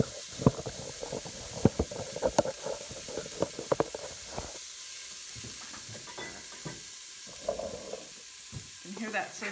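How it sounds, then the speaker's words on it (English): Half an onion and four cloves of garlic sizzle in a pan without oil, a steady crackling hiss punctuated by sharp ticks and spatula scrapes, close up with quieter pauses between stirs. "You can hear that sizzle."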